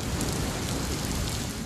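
Monsoon rain falling over rural farmland near Liliya, a dense, steady hiss of heavy rainfall with a low rumble beneath, loud and unbroken, without voices.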